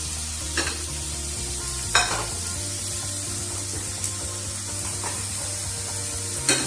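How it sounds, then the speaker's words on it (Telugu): Onion fries in a little oil in a pan, a constant close sizzle with a few soft scrapes of a spatula stirring, no voices. "ఫ్రై అవుతుంది ఉల్లిపాయ మళ్ళీ ఫ్రై అయిన తర్వాత"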